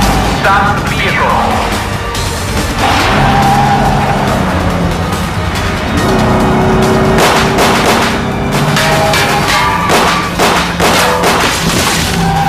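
A car drives through an action scene in a Ugandan movie, its engine noise running throughout under loud thumps, booming hits and a music bed, with voices speaking over it.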